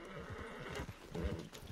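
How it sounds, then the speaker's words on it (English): A horse in a video game gives soft, steady clip-clopping hoofbeats with a hint of whinnying. It sounds quiet and a little distant, over a low game background with no clear speech. "My horsey. I forgot my horse is over here!"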